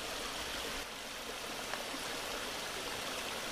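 A river cluttered with plastic bottles flows over rocks, giving a steady, dense rushing hiss that runs unbroken throughout, fairly close and even in level.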